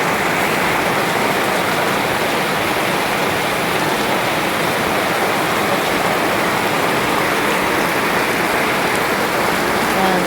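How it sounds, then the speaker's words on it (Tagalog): Heavy rain pours down steadily on an outdoor spot where volleyball practice goes on, a dense, even hiss that stays constant throughout with no voices. "Baka po abutin pa kami ng malakas ditong ulan."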